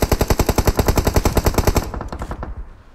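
A single loud, close burst of rapid automatic gunfire of about twenty shots in a PUBG Mobile match runs for nearly two seconds, then fades into a short echoing tail.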